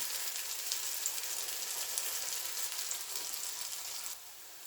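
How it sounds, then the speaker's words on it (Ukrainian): Zucchini batter fries in oil in a skillet with a steady, dense crackling sizzle, close and even throughout, with no voices. "І так усі посмажимо з двох сторін"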